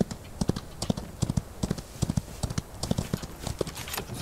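Horse hooves clip-clop in a cowboy video game, a fairly quiet, irregular trotting rhythm of soft thuds repeating steadily, with no talk over them.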